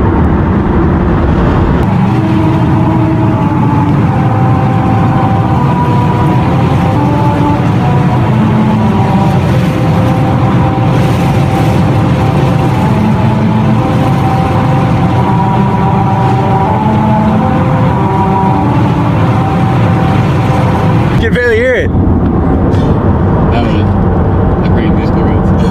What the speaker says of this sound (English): Supposedly, if you drive at exactly 45 miles per hour, America the Beautiful will play